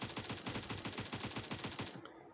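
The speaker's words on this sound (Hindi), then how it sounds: "भाई अंधाधुंधी फायर दे रहे, एलटी भी अंधा फायर दे रहे।" Rapid automatic gunfire in a battle royale video game, a steady stream of shots for about two seconds at moderate level, then cutting off into near silence.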